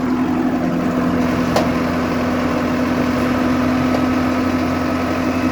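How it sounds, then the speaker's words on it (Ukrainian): A 105-horsepower four-cylinder diesel engine of a Solis 105 tractor idles steadily with a constant low hum and a strong droning tone, running close by without a break for the whole stretch. "105 кінських сил, 4-циліндровий дізельочок."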